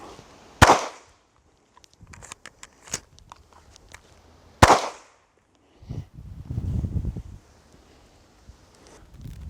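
Pistol magazine reload with retention, magazines swapped and one stowed in a pocket: two sharp metallic clacks a few seconds apart, with light clicks, handling noise and fabric rustling between and after, close by.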